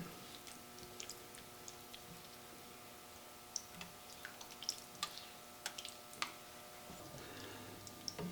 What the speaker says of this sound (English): let me get this all stirred together